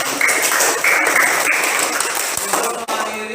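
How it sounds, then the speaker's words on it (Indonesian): Classroom of students and teacher clapping together, loud and close, a dense burst of applause that carries on evenly with a few sharper individual claps. "Tepuk tangan untuk kita semua."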